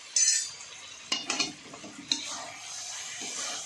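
Manchurian balls being tossed and mixed into noodles in a pan: soft scraping and clinking of a utensil against the metal in a few quick strokes, followed by a faint sizzle, close and quiet.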